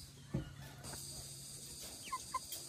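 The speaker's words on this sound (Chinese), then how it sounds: "小公鸡，" A young rooster pecks at a sleeve and gives a few soft, short clucks near the end, with a brief scuffle near the start over quiet background noise.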